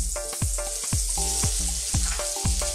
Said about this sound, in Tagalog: Sa frying wok po, mainit na. Lalagay ko na po ang butter.